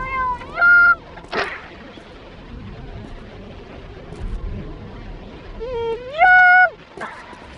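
A cat meows in the video game Postal 2 Apocalypse Weekend, two drawn-out, rising meows several seconds apart, clear and fairly loud over a low ambient game background with a brief noisy burst between them.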